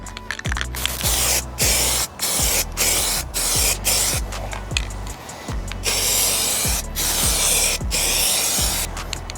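Paint sprays onto black plastic car trim on an E30 in short repeated bursts of aerosol hiss, each about half a second, separated by brief gaps with can-valve clicks, close and fairly loud.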